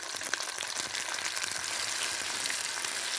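Tomatoes cook in a pan for a banana flower curry, giving a steady, even frying sizzle that holds at the same level throughout, close by, with no voices over it.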